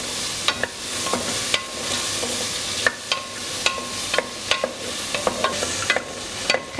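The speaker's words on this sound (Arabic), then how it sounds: "بعد كده هوت بضيف عليها الطماطم المتقطعه، ودول بقى سيبهم يستووا شويه" Chopped tomatoes frying in a pan for vegetable biryani, with a steady sizzle broken by repeated scraping clicks of a spoon stirring against the pan, close and alone.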